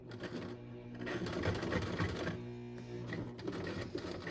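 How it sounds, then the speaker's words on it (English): A sewing machine stitches through layers of fabric for a cloth face mask, its steady mechanical whirr and rapid needle chatter running continuously at close range, with no one speaking. "And we're just going to sew this up."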